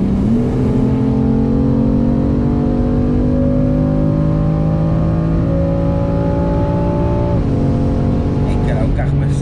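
A 500 hp BMW F80 M3 on air suspension drives and accelerates, its engine note climbing steadily through a long pull, dipping briefly at a gear change and rising again, loud and close throughout.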